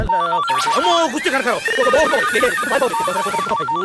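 A phone rings with a repeating electronic ringtone, loud and close, its chiming pattern cycling without pause amid busy background sounds.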